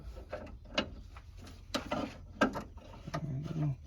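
A battery box on a 1949 Ford being tightened down, with scattered ratcheting clicks and metallic clunks in short, uneven bursts, close and moderately loud.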